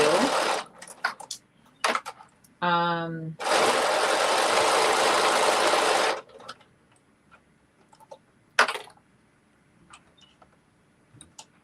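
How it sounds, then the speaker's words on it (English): A sewing machine stitches knit fabric in a steady burst of rapid stitching for a few seconds, surrounded by clicks and handling noises, with brief speech nearby. "As it's going through the sewing machine is doing everything it needs to do."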